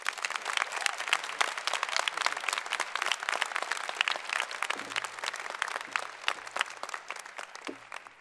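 Commencement audience at a university winter graduation ceremony bursts into sustained applause welcoming a lieutenant general to the podium, dense steady clapping filling the hall throughout with no talk over it.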